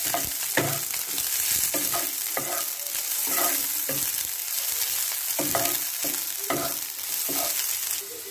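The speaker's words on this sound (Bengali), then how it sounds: "আর এগুলো একটু নেড়ে নেব, একটু নেড়ে দিচ্ছি।" Capsicum and beans stirred in a frying pan, with a steady sizzle of frying under repeated scraping stir strokes, close and moderately loud, and no talking.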